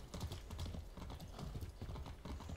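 Horse hooves clip-clop in Far Cry 6 with a quick, steady rhythm of repeated thuds. The hoofbeats are close and continuous, and no one speaks.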